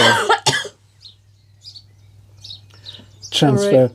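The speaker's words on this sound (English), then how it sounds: "We both had bad colds this week, excuse the coughing." Several sharp coughs, one quick burst near the start and a heavier cluster at the end, with quiet stretches and a low steady hum in between.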